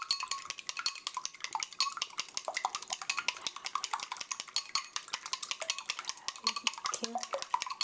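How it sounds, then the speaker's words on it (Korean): Eggs whisked for a scrambled egg rice bowl with green onions, a utensil beating against the bowl in fast, steady clinking strokes, close and distinct, no voices. "잘 저어주세요."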